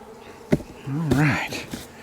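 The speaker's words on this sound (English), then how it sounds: "Still got lots of live bees in here." Live honey bees hum in the background while being rescued from a felled tree, with a brief knock and a rising, wavering tonal sweep near the middle over the steady swarm buzz.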